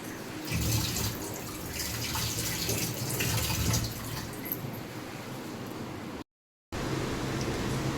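Water from washed raw chicken is poured away into a sink in a close, continuous splashing stream that breaks off into brief silence, then resumes.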